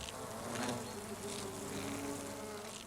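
Worker bee buzzing close by at brood cells while feeding larvae in the wild, a steady droning hum with slight wavering in pitch throughout, faint in overall level.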